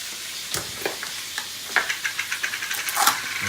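Food emptied from a bag cooks in a hot pan with a steady soft sizzle, while a utensil stirs it in quick, repeated scraping strokes that grow busier toward the end.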